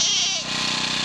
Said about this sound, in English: We put the goats out here.